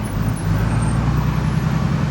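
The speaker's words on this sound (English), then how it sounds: "So we're in the traffic and all, guys." Loud road traffic in Jamaica heard from inside a truck, with a steady low engine and road rumble close by throughout and no talk.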